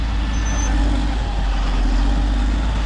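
A Cat motor grader's diesel engine runs steadily and loudly at close range as the machine maneuvers, its low rumble constant with a faint higher whine above it.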